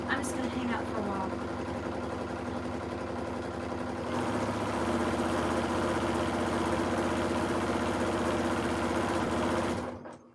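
A sewing machine whirs steadily at close range for about ten seconds, its motor hum shifting slightly in pitch partway through before stopping.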